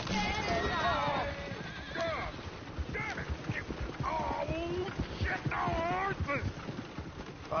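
A horse in Red Dead Redemption 2 whinnies with rising and falling cries, mixed with clopping hooves and steady game ambience while voices talk throughout.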